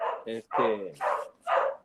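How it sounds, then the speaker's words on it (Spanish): Small female dog barking close by indoors, a series of about four sharp yapping barks in quick uneven succession. "tengo un pequeño problema aquí con una perrita"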